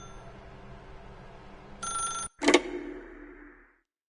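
Telephone ringing in The Stanley Parable video game, one bright electronic ring burst followed by a second louder clattering ring that fades out, over a quiet backdrop.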